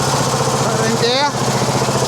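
A 1950 Clifford A3 walk-behind rotary cultivator with a 6 hp JAP engine runs steadily and close by as it is put into gear, with a brief shift in the engine note partway through.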